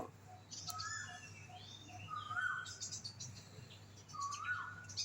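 Birds chirping in a garden with flowering vines, bright short tweets and trills repeating in bursts at moderate distance over a low steady hum, fairly quiet overall.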